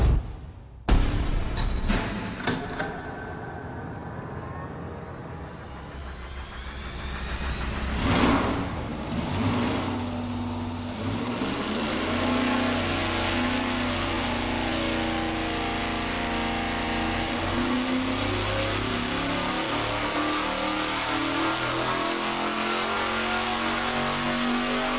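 A muscle car V8 on an engine dyno, run as a full pull from 3,500 to 6,500 rpm, starts with a few sharp bursts and then holds a loud, sustained roaring drone that climbs steadily in pitch, with no talk.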